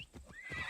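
Horse whinnying in Assassin's Creed: Odyssey, a short faint neigh rising in pitch, with a few soft hoof clops.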